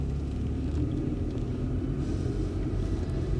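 Steady low rumble of a car on a test drive after an ABS front wheel speed sensor replacement, heard from inside as a continuous droning road and engine noise with no talking.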